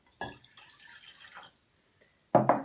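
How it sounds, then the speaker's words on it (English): Water splashes into a saucepan in a home kitchen, a short close trickle of about a second followed after a pause by a sharper, louder splash and knock. "You'll need a saucepan and pour some water in."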